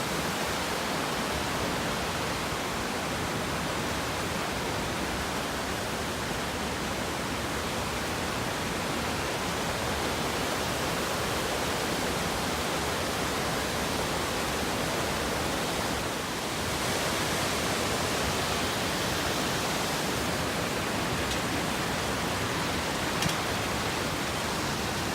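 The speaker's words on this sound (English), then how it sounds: "this is the highest waterfalls east of the Mississippi" Highest waterfall east of the Mississippi, a steady, dense broadband roar of falling water that holds constant and close throughout, with no voices.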